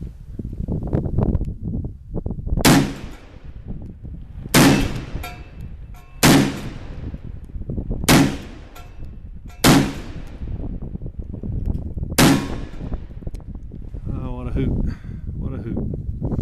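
A Webley Mark One revolver fires six sharp, loud outdoor shots at roughly even intervals of a second or two, each crack ringing briefly over steady wind noise.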